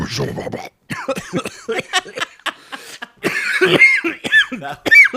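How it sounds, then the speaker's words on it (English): Several sharp coughs close to a microphone, bursty and irregular, mixed with speech and a bit of laughter. "Sorry about the coughing in the microphone."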